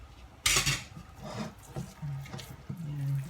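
A spoon stirs cassava cake ingredients in a bowl, opening with a bright scrape, then soft knocks, clinks and rubbing strokes close by.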